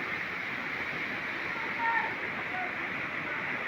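The uppermost tier of Lankvoku waterfall in Karbi Anglong, Assam, gives a steady, broad roar of falling water that holds an even level throughout at moderate distance.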